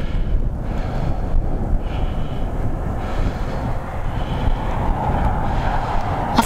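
Cold wind buffeting a handheld microphone outdoors, a steady loud low rumble and roar with gusty surges, continuous with no talking.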